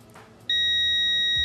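A multimeter's continuity buzzer sounds a continuous electronic beep that starts abruptly after a brief quiet moment and holds steady and loud until the end.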